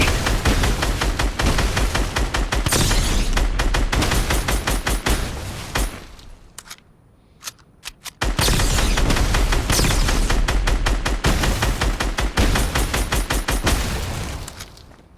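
Rapid, loud bursts of automatic gunfire rattle nonstop at a firing range in the video game Fortnite, Creative mode Boom Tycoon, breaking off for about two seconds before resuming just as dense.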